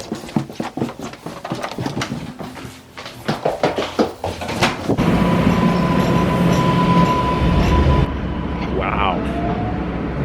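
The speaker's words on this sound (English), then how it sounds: "That's a train right next to the building." A train runs right beside an apartment building, its loud steady rumble building up and rolling past close by, heard from indoors after a few short knocks and some talk.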